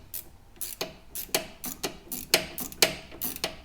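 A box-end wrench works on the steering of a Mercedes R107 SL, giving sharp, irregular metallic clicks and ticks at close range with short gaps between strokes.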